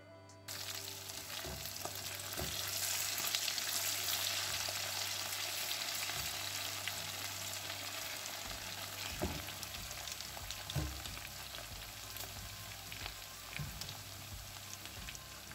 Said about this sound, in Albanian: Pancetat u skuqën